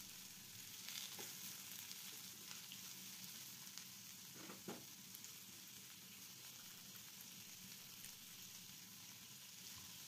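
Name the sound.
chopped onion frying in hot oil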